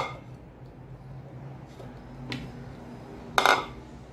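Blended phalsa (grewia) pulp is strained through a sieve into a bowl. Faint, sparse clinks and scrapes of the utensils sound over a quiet background, with one sharper clatter near the end.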